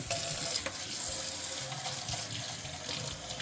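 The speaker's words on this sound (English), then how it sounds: "we're going to wash our mushroom now" Water runs steadily from a sink faucet while mushrooms are washed, a constant close splashing hiss throughout with no voices.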